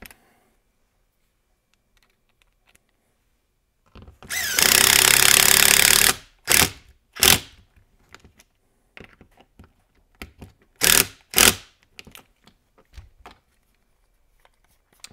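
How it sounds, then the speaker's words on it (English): Screws being tightened down on a Mugen Seiki MBX8R ECO RC car build with the B block fitted, a long whirring burst of a power driver followed by several short separate bursts, close and loud with quiet gaps between. "tighten these screws down."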